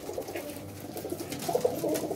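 Pigeons coo softly in a loft, with low, rolling calls that repeat and overlap against a faint background hum and no talk.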